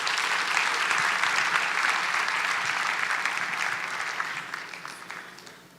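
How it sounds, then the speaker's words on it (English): An audience applauds at a Rwanda Day gathering in San Francisco, with loud, sustained clapping from a large crowd that gradually tapers off near the end. "Another round of applause, please."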